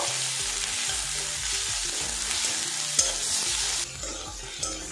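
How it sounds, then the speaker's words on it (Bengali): Ginger garlic paste fries with onions in a pan, giving a loud continuous sizzle while a utensil stirs, scraping and tapping against the metal in an irregular rhythm. "আদা রসুনটা পেঁয়াজের সাথে আমি ভাজা ভাজা করে নেব।"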